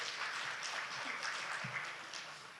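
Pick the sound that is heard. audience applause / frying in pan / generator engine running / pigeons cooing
audience applause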